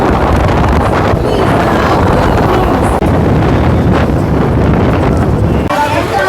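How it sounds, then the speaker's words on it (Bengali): Strong sea wind on Digha beach roars steadily and loudly, buffeting the microphone without a break. "পেছনে সমুদ্রের এরকম হাওয়া, সবাই বসে কিন্তু বেশ দারুণ উপভোগ করছে"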